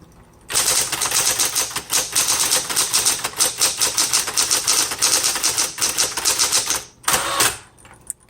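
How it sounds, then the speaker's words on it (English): A 1960s Smith Corona Coronet Automatic typewriter clatters under fast, steady typing, dense rapid key strikes close up, ending with a brief pause and a final burst. "This is going to be a good beginner typewriter."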